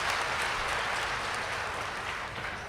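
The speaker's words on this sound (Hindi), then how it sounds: "आप जोरदार तालियों के साथ रमेश का स्वागत करें।" Loud, steady applause fills the hall at a Hindi comedy poetry gathering as poet Ramesh Muskan is welcomed to the stage, dense clapping without a break throughout.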